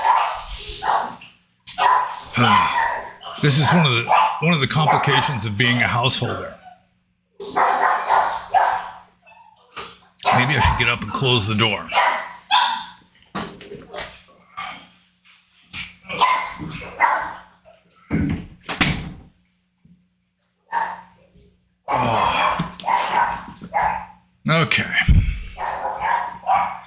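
Several dogs bark and yip in a house after the doorbell rings, in bursts between pauses, with someone talking over and between them.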